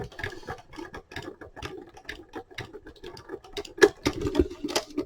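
Embossing folder holding strips of cardstock cranked through a Diamond Press marquee die-cutting machine, a quick run of close, irregular clicking, ticking and pattering mechanical sounds.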